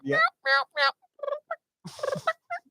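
Wild turkey gobbling during a spring hunt, several loud rapid gobble bursts close by separated by short pauses, followed by softer calls.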